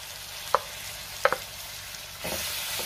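Ground masala paste frying in oil for a spicy prawn curry, stirred with a spoon: two or three light taps against the pan, then a soft sizzle swells near the end, quiet and close, with no voices.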